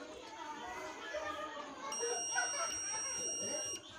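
Continuity-mode beep from a multimeter probing a shorted rectifier in a Stranger PBT701 amplifier: a steady high tone sustained for about two seconds, clearly audible over background chatter and room noise.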